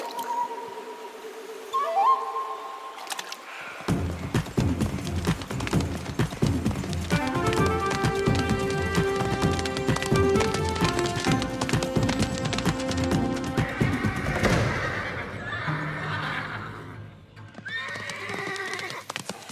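Two cartoon horses gallop with rapid clip-clop hoofbeats and neigh shrilly, set against a dense animated soundtrack with whinnies punctuating the running.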